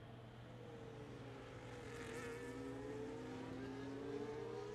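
Formula 1 cars, a Ferrari and a McLaren, racing at the Bahrain Grand Prix: a steady high engine whine that rises in pitch as the cars accelerate, heard at moderate volume with no voices.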